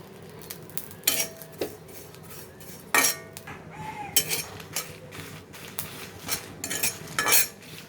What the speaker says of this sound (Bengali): শুটকি ভেজে নিব।